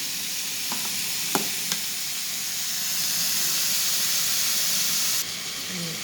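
Minced pork stir-fries in a pan with a steady, loud sizzle and hiss, broken by a few clinks of a spatula near the start.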